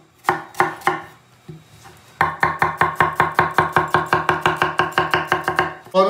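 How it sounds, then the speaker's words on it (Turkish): A knife chops vegetables on a cutting board in a home kitchen while an eggplant dish is prepared: a few separate cuts, then a quick, even run of about twenty crisp close chops, with no talk. "Diğer malzemeyi doğrayacağız şimdi."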